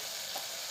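Turmeric, coriander powder and garam masala fry in a pan, giving a brief, even sizzle with no voices.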